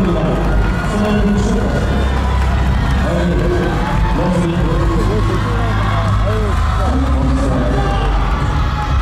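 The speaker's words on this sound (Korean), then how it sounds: "큰 박수를 부탁드립니다." A large studio audience at the final of the Korean TV music competition MIXNINE cheers and applauds in a loud, continuous crowd roar with scattered shouts and whoops, voices mixed in.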